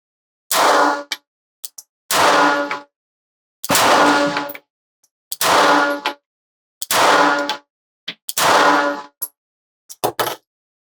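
Six loud, sharp gunshots from a Glock G42 .380 ACP pistol are fired at a target at slow, even intervals, each shot followed by brief clanks and echoes, with silence between them.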